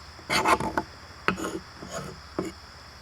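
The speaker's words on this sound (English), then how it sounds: "you scrape some dust off, like that, or shaving" A ferro rod striker scrapes shavings off a piece of fatwood in a few short, dry rasping strokes, close up and fairly quiet, with pauses between them.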